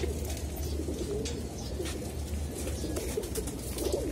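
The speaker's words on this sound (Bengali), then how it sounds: "165 কিলো ব্যাক করা কবুতরটা আমরা দেখবো এখন" A long-distance racing pigeon, flown in a 165 km tournament race, coos in low repeated calls over a steady background hum, with no one talking.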